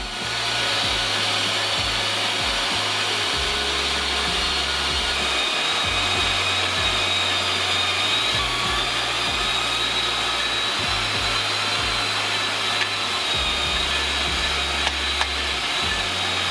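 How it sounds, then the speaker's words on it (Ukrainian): An electric meat grinder minces cubed meat and pork fat through its coarsest plate with a loud, steady motor whir that holds continuously throughout, with low churning fluctuations from the meat feeding through and no voices. "Беремо м'ясорубку і все пропускаємо через насадку з найбільшими отворами."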